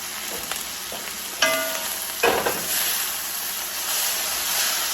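Cooked pasta stirred into a hot pan of sizzling food for a creamy pasta dish, a steady frying hiss broken by a few sharper scraping stirs.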